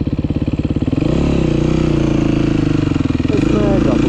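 A 125cc motorcycle revs hard while riding a wheelie, its engine note loud and close, rising and dipping continuously throughout with strong harmonic drone.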